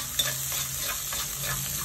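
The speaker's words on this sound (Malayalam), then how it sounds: "ഇനി ഇതിൽ കൊച്ചുള്ളി ഒരു ആറേഴെണ്ണം വട്ടത്തിൽ അരിഞ്ഞതാണ്. അതൊന്ന് മൂപ്പിക്കാം." Six or seven sliced small shallots frying in oil for a fish curry, a close dense crackling sizzle mixed with stirring scrapes throughout this short moment.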